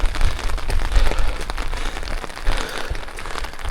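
Rain falls on a hiking trail near Olpererhütte in Austria, a steady close patter of drops on surfaces with no voices.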